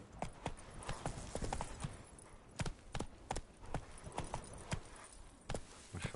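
Hooves of the horse Roach clip-clop at a steady gallop in The Witcher video game, a close, rhythmic run of sharp beats that holds for the whole stretch.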